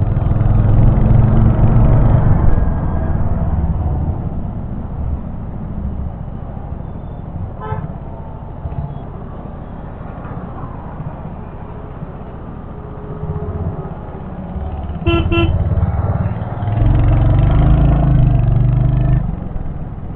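Heavy road traffic near Vashi on a hot day, with engines of cars and motorcycles droning steadily and loudly. Several sharp car horn toots cut in along the way, one clear burst midway and another later on.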